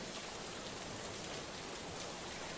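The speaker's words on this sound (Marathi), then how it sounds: "सिंधुदुर्ग जिल्ह्यामध्ये वेगवेगळ्या तालुक्यांमध्ये मुसळधार पाऊस सध्या बरसतोय" Heavy monsoon rain pours down in Sindhudurg district, a dense, even hiss of falling water and drops striking surfaces, continuous and fairly faint.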